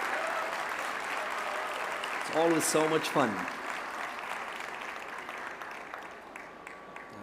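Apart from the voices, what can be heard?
audience applause for winners stepping on stage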